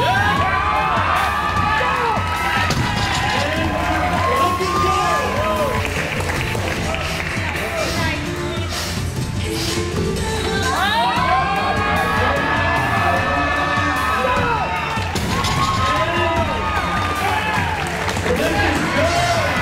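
A powerlifting crowd roars after a Canadian women's record deadlift, loud sustained cheering, shouting and whistles filling the space, with voices calling out throughout.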